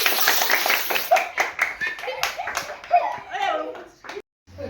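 Hand clapping at a Teachers' Day celebration at home, a quick run of sharp claps from a few people mixed with children chattering and talking throughout, with a brief silent gap near the end.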